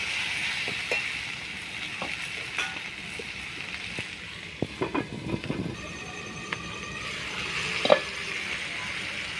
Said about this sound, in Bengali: সবজিটাকে ভেজে নেব, যাতে ঝিঙ্গাটাও অর্ধেকটা জ্বলে যাবে, আলুটা আরও ভালোভাবে ভাজা হয়ে সিদ্ধ হয়ে যাবে।